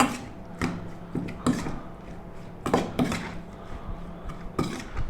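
Seafood is stirred with sesame oil in a bowl, giving a series of irregular clinks and scrapes of a utensil against the bowl, close and fairly quiet, with short pauses between strokes.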